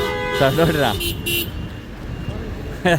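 Short car horn toots sound in a jammed used car market in Qatar, mixed with road noise while people chat nearby.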